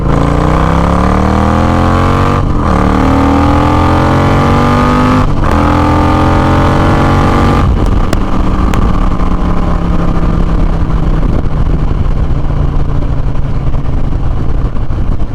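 Motorcycle fitted with a Fuel Moto Jackpot RTX Riot 2-into-1 shorty exhaust, revving hard through higher RPM in three rising pulls with brief gaps, then a sustained loud engine roar close by, with no speech.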